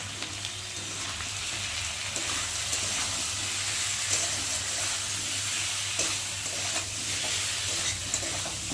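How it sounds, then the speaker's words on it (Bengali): Spice masala for rohu fish curry sautés in a pan with a dense, constant hiss and crackle, and occasional soft stirring scrapes throughout, close but fairly quiet. "মশলাটা দিয়ে একটু ভালো করে কষিয়ে নিই"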